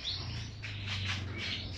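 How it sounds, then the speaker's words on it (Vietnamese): Caged canaries in a bird shop give quick, high chirps and short trills in repeated bursts, moderately faint over a low steady hum, with no talking. "chim thì rất nhiều nha"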